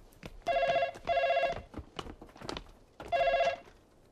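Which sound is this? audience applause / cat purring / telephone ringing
telephone ringing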